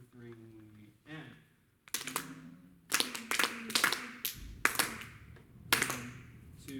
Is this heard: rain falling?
no